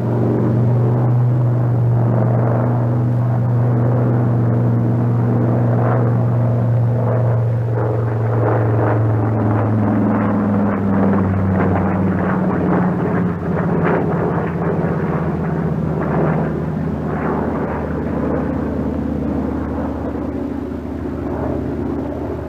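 A Brewster SB2A Buccaneer propeller aircraft flies an Immelmann turn, its engine a loud continuous rumbling drone whose pitch shifts and wavers as the plane climbs and rolls out, with no voices heard.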